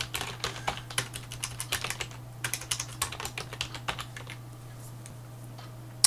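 Rapid clicking keystrokes on a computer keyboard as a file name is typed, in quick irregular bursts, close and fairly quiet, pausing briefly near the end.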